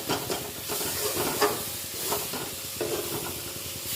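Masala gravy for raw banana kofta frying uncovered in an iron wok, a continuous close sizzle with soft stirring scrapes and small bursts of spitting oil.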